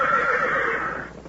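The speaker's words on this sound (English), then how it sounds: "Gene Autry's champion, the world's wonder horse." Gene Autry's wonder horse Champion lets out one loud, close neigh, a bright quavering whinny held for about a second before trailing off.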